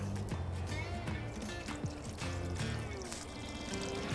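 Knob Creek bourbon poured from the bottle onto sugar in a bowl, a steady liquid trickle and splash running through the clip over busy low kitchen background noise.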